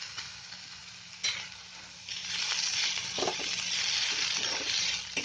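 Ginger garlic paste sizzles and crackles in a frying pan with oil, a loud steady hiss that swells partway through, with a faint stir or scrape.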